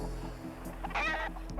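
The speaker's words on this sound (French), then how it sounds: "C'est un gallinacé, ce qu'on appelle un poulet." A cartoon chicken in a French-dubbed Pole Position episode lets out a short, nasal cluck over a steady low background rumble.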